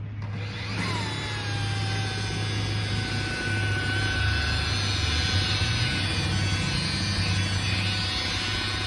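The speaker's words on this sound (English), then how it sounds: "Have you ever seen a guy buffing paint on a semi-frame?" Power buffer polishing paint on a semi truck frame during a cabover restoration, a steady whirring drone with a whining tone that holds evenly throughout at moderate loudness.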